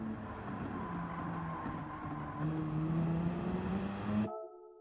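Race car engine in Gran Turismo 7 drones loudly and steadily, its pitch stepping as gears change through a corner, then cutting off abruptly near the end.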